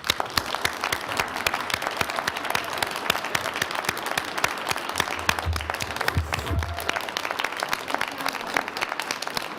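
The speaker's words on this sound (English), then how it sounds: "big round of applause to your staff" Steady applause from an audience at a county commissioners' board meeting, dense clapping sustained for about ten seconds at moderate volume with no talk over it.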